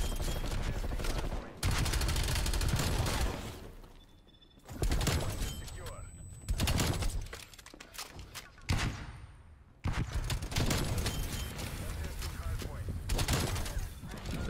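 Bursts of close pistol and other gunfire in Black Ops Cold War, loud volleys broken by short gaps, with a voice talking over parts of the action.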